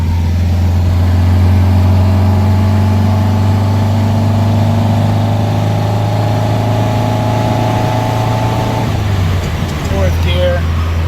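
A car with a 4-speed transmission driving in third gear, a loud steady low engine drone heard from inside, holding an even pitch before dropping near the end as if shifting, with speech-like sounds over it.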